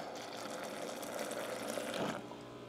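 Water pours steadily into a container in a home, producing a soft, continuous splashing gurgle with a faint hum beneath it.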